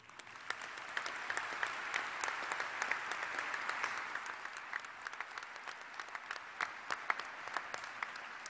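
Sustained applause from a commencement audience honoring graduates, steady clapping throughout at moderate level with no speech over it.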